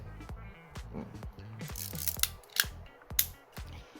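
A Rollei 35 film camera's mechanism clicks and ratchets up close as its shutter fires at 1/500, with a series of sharp mechanical snaps and winding sounds in an indoor room.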